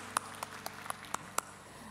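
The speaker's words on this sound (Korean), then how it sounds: "우리 서로에게 격려의 박수, 또 축복의 박수, 응원의 박수 함께 보내도록 하겠습니다." A few spaced, isolated handclaps sound faintly in a church worship service as a congregation claps to welcome and encourage one another, over a quiet low hum.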